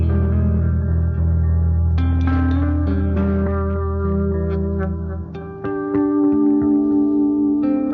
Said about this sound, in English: So there's a straight up just delay. I'm going to mix that with a reverb, because that's a natural pairing.